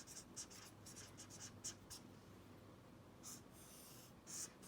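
Marker strokes on a board during an algebra lesson, as the word "dependent" is written out in a series of short, faint squeaks and scratches with brief gaps between them, in a quiet room.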